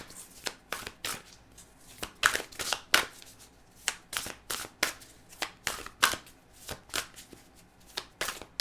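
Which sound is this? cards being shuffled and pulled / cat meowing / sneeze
cards being shuffled and pulled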